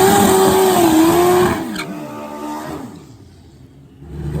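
Turbocharged Hayabusa drag bike on a qualifying pass at a pro street drag race, a loud high-revving engine scream that climbs through gears and then fades quickly into the distance.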